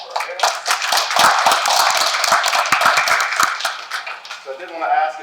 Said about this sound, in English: All right, round of applause for our panelists.